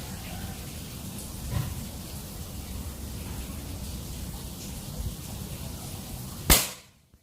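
A folding mini PCP air rifle with a Monel OD27 magazine, 3500 psi fill and 30 cm seamless barrel fires a single sharp, loud shot near the end, after several seconds of quiet background hiss.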